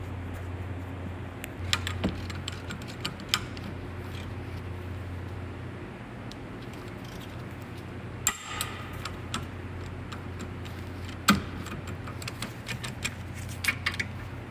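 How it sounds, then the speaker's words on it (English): A 3/8-drive torque wrench tightens 14 mm bolts on a 2013 Kia Sorento rear anchor plate, giving sparse sharp clicks over a low steady hum, close and without speech. "we're just torquing these down with this torque wrench from Olsa Tools"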